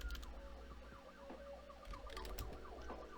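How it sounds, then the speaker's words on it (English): Emergency vehicle sirens wail outdoors at a distance, rising and falling in repeated sweeping cycles that carry on continuously, faint but clear over a low background rumble. "And sorry about the sirens."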